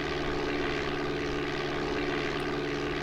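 A propeller airplane in Flight Simulator 5.1 taking off from Meigs Field, Chicago, with a steady, droning engine hum that holds a constant buzzing tone throughout, loud and alone.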